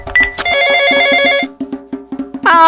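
Telephone ringing with a loud, close, sustained electronic ring tone, followed by a pulsing pattern and a second bright ring at the end.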